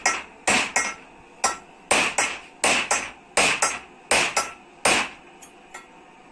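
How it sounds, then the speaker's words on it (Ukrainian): A hammer drives a valve guide into a 1.9–2.0 TDI diesel cylinder head in a workshop, with about a dozen sharp, ringing metallic blows in uneven bursts, close and loud. "зараз беремо направляйку і будемо забивати направляючу вставляємо і молоточком поїхали"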